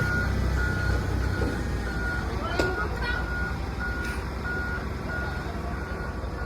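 A small truck reverses for loading stone, its reversing beeper sounding in a steady repeating series over a loud idling engine, with a few faint knocks and background voices.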